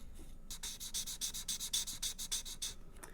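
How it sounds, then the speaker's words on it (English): A pencil rubs back and forth across paper while coloring in a paper snake craft, making a run of quick, even scratchy strokes close by that stop after a few seconds. "Now we also have to color the back side because the snake has two sides."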